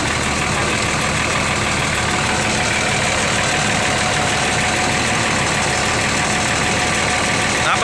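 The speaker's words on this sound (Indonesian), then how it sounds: "sama Bang Perangin Angin sama Bang Sunarso lagi perbaikin kondisi mesin ya teman-teman ya." A bus engine idles loudly and steadily during repair work, a constant close rumble with no pauses from start to end.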